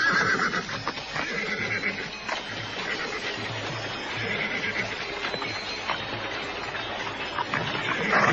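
Horses belonging to Kediri soldiers whinny and stamp near a riverbank, hooves clip-clopping amid a busy, continuous outdoor din that stays fairly loud throughout.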